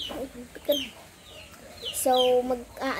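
Chickens cluck in short bursts close by, with a few sharper calls mixed in over faint background noise.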